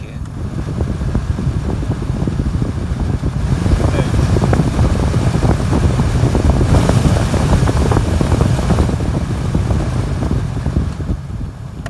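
A Seat Leon, Toledo or Golf heater blower fan runs on its first speed setting, a steady broadband whoosh that swells slightly midway, heard close inside the car with a voice speaking over it.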